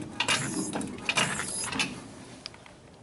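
A jack ratchets to lift the rear end of a Chevy OBS GMT 400 pickup truck, giving a few sharp, close metallic clicks in a short uneven run with no talking.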